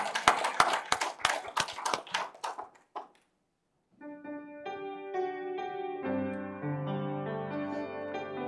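Worship congregation in a Sunday church service clapping hands together in a loud, steady rhythm of sharp claps for about three seconds, then stopping as sustained instrumental music rises and carries on.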